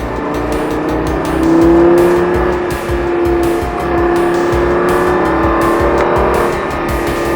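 A Lamborghini accelerating on a race track, a loud, close engine roar that rises and holds steady with tones shifting through the gears, and no talk over it.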